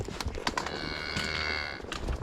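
Cattle on a Montana cattle drive let out a long, loud moo in the middle of the clip, with shorter lowing and rustling around it.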